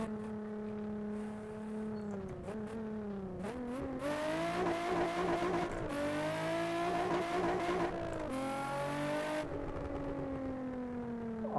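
A Nissan 350Z in Assetto Corsa on a server with traffic, its engine droning steadily and climbing through revs, with bursts of hissing wheelspin tire squeal rising over the motor now and then.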